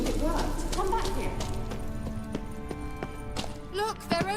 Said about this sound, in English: Another horse. Almost exactly like the last one.